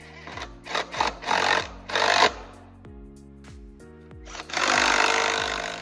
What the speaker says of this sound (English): You're torquing the pressure plate to 35 foot-pounds.